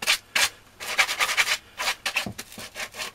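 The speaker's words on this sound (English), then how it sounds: "the very next thing that I want to do is just take a piece of sandpaper" A piece of sandpaper rubs back and forth over fresh saw cuts in wood to clear splinters on a pom pom blanket loom, a close, rhythmic scratchy rasping in short bursts and longer strokes.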